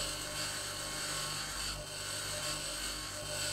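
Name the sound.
angle grinder in the video game Occupy Mars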